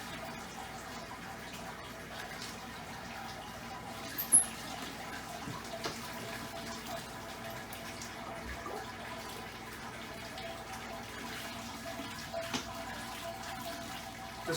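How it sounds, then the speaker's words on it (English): Sparge water runs fast through a light homebrew grain bed, giving a faint, steady trickling wash that continues evenly without pauses and with no talking. "because my grain bed is so light, the water is going through real fast"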